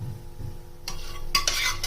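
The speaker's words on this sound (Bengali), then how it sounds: "তেলের মধ্যে আমি একটু জিরে ভেজে নেব।" Cumin seeds hitting hot oil in a heated kadai: a quiet moment, then a burst of crackling sizzle that flares louder near the end, close and without talk.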